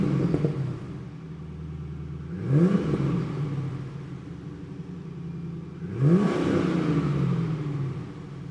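A 2002 Chevrolet Camaro SS 35th anniversary engine revs twice, each a sharp rising roar from a low idle rumble, spaced a few seconds apart and close by, with no talking.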